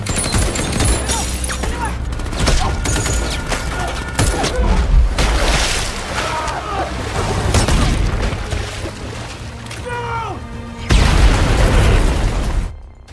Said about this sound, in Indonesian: Tiba-tiba sebuah granat dilemparkan ke arah mereka.